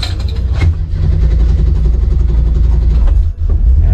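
An old car engine catches and settles into a steady, loud, low idle close by, rumbling evenly with a brief dip near the end, and no one speaking over it.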